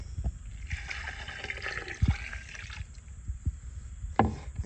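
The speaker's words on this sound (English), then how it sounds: "Two cups of water" Two cups of water are poured into a pot of stuffed pepper soup, a soft trickling splash lasting a few seconds, followed by a few faint knocks and clinks of cookware.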